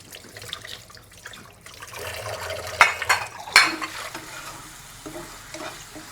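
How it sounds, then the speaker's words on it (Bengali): A spice masala being fried and stirred in a pan for egg frying, a soft sizzle under clattering spoon scrapes and a few sharp metallic knocks against the pan, close and moderate in level. "এখন আমি ডিম ভাজার জন্য মশলা কষাচ্ছি"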